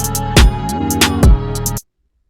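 Drill-style 808 bass notes sliding in pitch between deep booming hits over a busy beat with hi-hats, loud and close, stopping abruptly.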